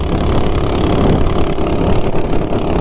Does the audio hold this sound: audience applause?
no